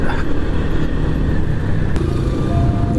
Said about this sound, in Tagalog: Sa araw na to ay Magka-travel naman tayo Gamit ang ating motor na Pajja City 100